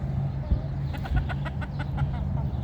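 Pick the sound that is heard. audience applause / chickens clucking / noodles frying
chickens clucking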